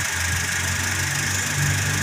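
Repaired Toyota Avanza engine idling steadily and evenly up close, with a smooth continuous hum.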